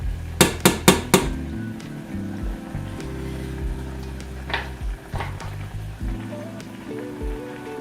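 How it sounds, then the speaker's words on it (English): Ramen noodles being stirred in a pot on the stove, a few sharp metallic knocks of a utensil on the rim followed by soft scraping and a low simmering hum. "Give them a little stir."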